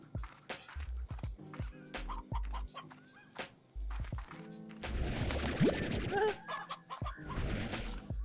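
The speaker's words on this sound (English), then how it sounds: "I hear a chicken." Chicken clucking in the video game Slime Rancher, a run of short repeated clucks and squawks over a busy game soundscape with music-like tones, close and fairly loud.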